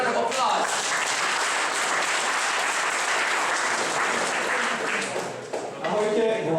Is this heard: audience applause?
yes